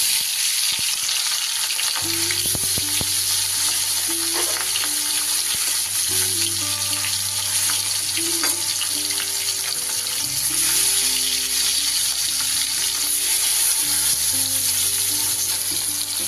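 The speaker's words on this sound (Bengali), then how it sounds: "এবার এই তেলে আমি মাছগুলো ভেজে নিই।" Katla fish pieces frying in hot oil in a wok, a steady, dense sizzle running throughout with no talking, over background music.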